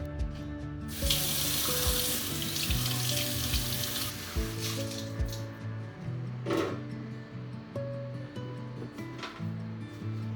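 Kitchen sink tap running while dishes are washed, with a steady rush of water that surges loudly at first, then splashing and clinking of items in the basin, close by with no talking.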